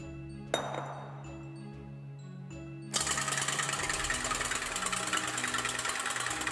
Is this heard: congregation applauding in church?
no